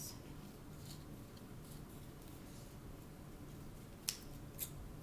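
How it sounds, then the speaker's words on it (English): Scissors cut paper for a Diwali wreath craft made from Dollar Tree supplies, with two quiet, sharp snips close by against a faint room hush. "And I'm just going to cut around."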